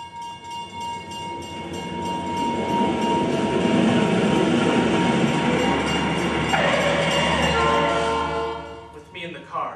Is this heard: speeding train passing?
yes